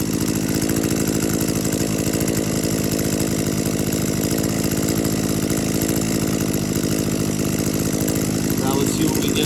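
An Echo PAS-266 powerhead engine, prone to cutting out and with its high-speed carburetor screw richened about a quarter turn, runs loud and steady at high revs, its buzzing drone unbroken throughout.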